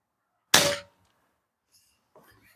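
A single sharp shot fired with a rifle and scope at small 11mm target circles at 25 yards, one loud crack that quickly fades to silence, followed by faint light clinks.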